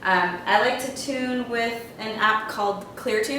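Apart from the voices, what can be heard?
No everyday noises stand out.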